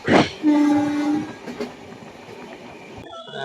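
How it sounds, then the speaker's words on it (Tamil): A train passing at night in a metro city, starting with a loud blast of its horn, then rumbling and clattering rail noise that fades, and a second horn-like tone near the end. "பயங்கரமாக இருக்குது அந்த ட்ரெயின் சவுண்டுக்கும் இந்த மாதிரி"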